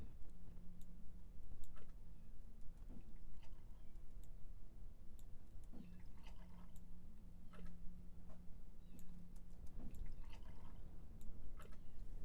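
Faint, sparse water drips and small clicking ticks sit in a quiet room tone during a film dialogue recording being cleaned with noise reduction, with a soft low hum running underneath and no talk.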